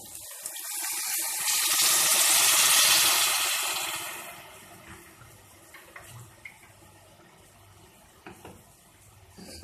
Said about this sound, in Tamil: ஜாஸ்தி வேணாம், ஒரு 2 கப் மட்டும் தண்ணி ஊற்றிக்கலாம்.